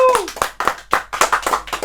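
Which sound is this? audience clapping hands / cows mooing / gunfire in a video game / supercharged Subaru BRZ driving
audience clapping hands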